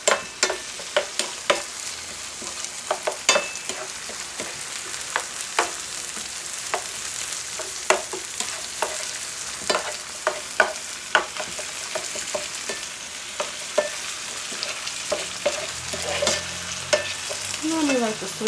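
Vegetables sautéing for a Brussels sprouts and spinach casserole sizzle loudly and steadily in a pan, punctuated throughout by frequent sharp clicks and scrapes of stirring.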